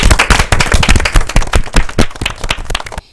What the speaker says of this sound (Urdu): ان کے لیے تالیاں ہو جائے بھائی